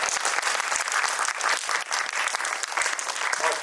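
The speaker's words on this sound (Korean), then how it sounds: "마지막으로 박수 크게 보내드리면서 마치겠습니다." A cinema audience at a special film screening and guest talk applauds loudly and steadily, a dense, continuous wash of clapping from a large crowd close by, with no pause throughout.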